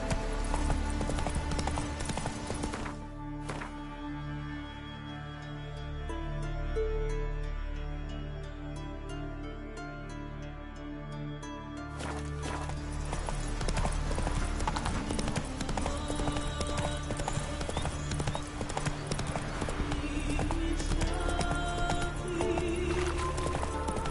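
Horse hooves clip-clop at a gallop in The Witcher 3 video game, a steady rapid rhythmic drumming with occasional whinnies, continuing under game music and ambience, briefly thinning midway before resuming at full pace.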